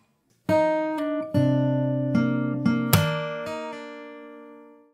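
Fingerstyle acoustic guitar playing a part of a song, with plucked chords and bass notes and a sharp slapped hit, ringing out close and clear before a long fading sustain, with no voice.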